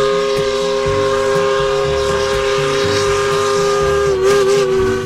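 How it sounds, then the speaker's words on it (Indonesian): A steady, high toy steam locomotive whistle tone holds throughout over a busy mechanical rattle and chugging, loud and close. "ini ada lokomotif uap kereta api"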